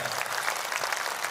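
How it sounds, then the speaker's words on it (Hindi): Sustained audience applause at a Christian testimony meeting: dense, steady hand clapping from many people, fairly loud and even throughout. "Shall we give them a big hand clap and thank them?"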